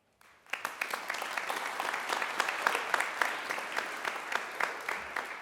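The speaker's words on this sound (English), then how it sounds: "You should all give yourself a round of applause for the hard work that you guys have put into them." Graduates at a university diploma ceremony applaud themselves, a steady crowd clapping with distinct individual claps rising after a brief silent start and continuing evenly throughout.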